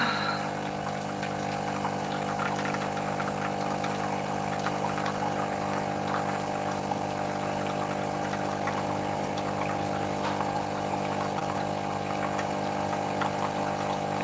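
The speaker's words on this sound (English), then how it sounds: "We are making giant cups of coffee." A steady mechanical hum with a constant liquid gurgle, like a coffee machine pumping and brewing, running evenly throughout.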